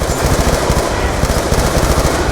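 Sustained rapid automatic gunfire from Call of Duty Black Ops 2, loud and continuous with a dense rattling rhythm, playing alone without talk.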